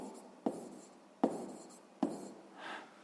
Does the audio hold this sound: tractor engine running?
no